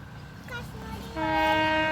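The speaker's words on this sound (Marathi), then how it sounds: "वाजते का ट्रेन वाजते का ट्रेन आलेली आहे" A train horn sounds nearby, rising into a loud sustained blast over the rumble of the moving train, with a voice briefly heard.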